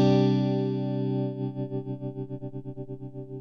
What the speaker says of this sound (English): the next one is the tremolo